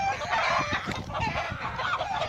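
A chicken fighting a hawk gives loud, harsh, continuous clucking and squawking, close and agitated, with no pauses across the short burst.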